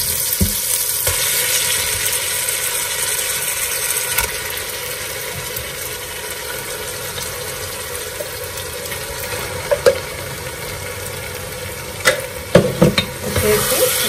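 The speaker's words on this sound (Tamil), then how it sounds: "மசாலா கட்டி வச்சிருக்கிற இறைச்சியை வந்து இதில் சேர்த்துடலாம்" Marinated mutton frying with sautéed onions for biryani, a loud steady sizzle with occasional stirring clatter and scraping near the end.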